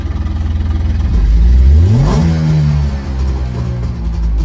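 A 1969 Melkus RS 1000 sports car engine revs hard close up, climbing steeply in pitch to a loud peak, then settling into a steady, buzzing run.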